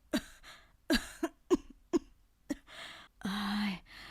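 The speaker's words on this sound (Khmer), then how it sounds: "យាយមិនស្រួលខ្លួនសោះពិបាកទ្រាំណាស់ក្អកមិនឈប់ទេ" An elderly woman coughs repeatedly at close range, short harsh bursts in an uneven rhythm. The coughing ends in a strained, drawn-out vocal groan.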